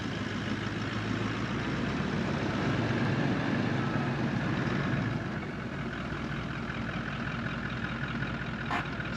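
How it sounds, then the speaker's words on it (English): Diesel engine of a pre-2016 Toyota 79 series four-wheel drive approaching, a steady loud rumbling drone that holds throughout with no talk over it. "Anybody who knows their four-wheel drives will know that noise."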